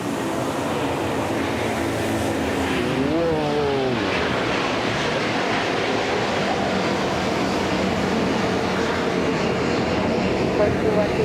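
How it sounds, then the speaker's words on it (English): Airliner aborting its landing and climbing away in a go-around at Manila Airport on a rainy day, a loud sustained engine roar with a rising whine, broad and continuous under rain and wind noise. "we have a go around"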